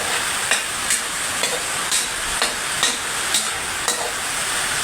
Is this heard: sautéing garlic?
yes